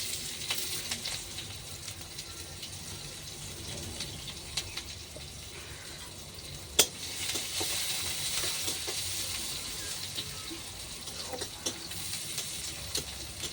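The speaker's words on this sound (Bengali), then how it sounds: "ফোড়নটা হয়ে গেছে, দেবো পেঁয়াজ কুচি।" Chopped onion dropped into hot white oil with whole cumin tempering in a kadai, giving a faint, steady sizzle and hiss with occasional light stirring and one sharp clink.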